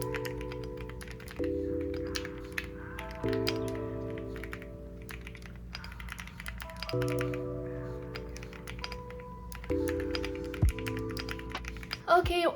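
Soft, rapid clicking of a computer keyboard being typed on continuously, close up and fairly quiet beneath steady background music.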